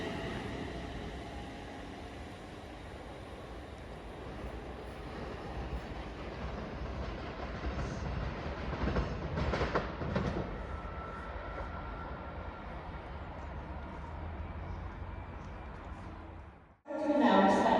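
A Class 350 electric multiple unit pulls out of Stoke-on-Trent toward Stafford, a low steady rumble and hum building gradually as it moves off, ending with a sudden loud burst close by.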